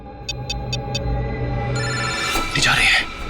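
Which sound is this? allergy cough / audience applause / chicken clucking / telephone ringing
telephone ringing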